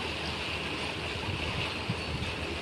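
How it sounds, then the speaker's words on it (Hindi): Heavy rain pours steadily outside a home, a dense, continuous hiss of falling water with a soft low rumble, moderately quiet and unbroken by voices. "अरे दोस्तों, देखो कितनी बारिश है।"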